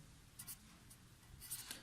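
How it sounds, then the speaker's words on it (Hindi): Chalk or a marker writes numbers on a board during a number-system lesson, producing quick faint scratchy strokes in short bursts with no talk. "मैं यहाँ पे लिखता हूँ"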